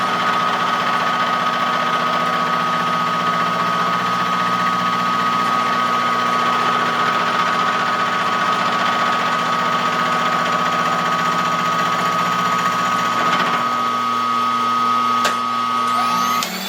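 A small lathe motor runs steadily while cutting a 50-tooth gear, a constant close hum with a high whine that holds through most of the stretch, then shifts and wavers near the end as the speed changes.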